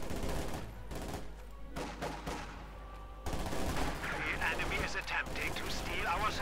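Katyusha rocket artillery barrage in the WWII strategy game Company of Heroes 2, heard as a continuous rumble of launches and crackling battle noise at a moderate level through the whole stretch.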